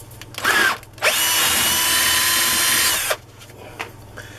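A power drill widens a pilot hole in the metal of a vintage Haenel Model 2 air rifle during refurbishment: a short burst, a pause, then a loud sustained whine of about two seconds that cuts off abruptly, with light handling clicks after.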